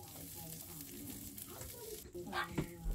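Chopped onion sizzling in hot oil in a frying pan for a pork spare ribs and vegetable stir-fry, a steady crackling hiss with a few stirring scrapes near the end.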